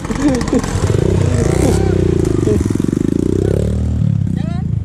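A trail motorcycle engine revs hard and close during a trail riding event, loud and continuous with rising and falling pitch, while people talk over it.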